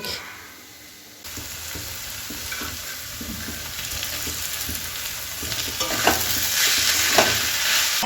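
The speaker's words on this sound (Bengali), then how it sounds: "মা এখন আলুটাকে ভালো করে একটু থেঁতো করে দেবে মানে চটকে দেবে একটু" Boiled potatoes are mashed and stirred for an aloo paratha filling, a moist squishing and scraping that builds steadily louder, close up with no talk.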